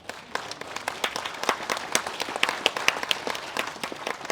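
An audience at a memorial ceremony for founding president Syngman Rhee at Hyeonchunggwan applauds to welcome a professor from the Syngman Rhee Hakdang, with sustained, fairly even clapping from many hands throughout and no voices over it.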